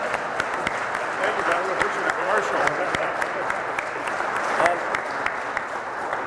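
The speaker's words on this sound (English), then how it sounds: "Let's give that a round of applause." Audience applause fills a room at a Richmond business event marking a software company's new operations center, steady dense clapping throughout with a voice speaking briefly over it.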